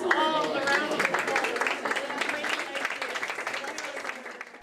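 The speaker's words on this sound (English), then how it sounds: "give yourselves all a round of applause." A group claps in dense applause at moderate volume, tapering slightly, with a voice audible briefly at the start.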